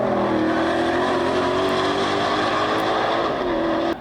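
A Mustang GTD's loud, high-revving engine roars steadily throughout on the Nürburgring, its pitch holding then dipping slightly near the end.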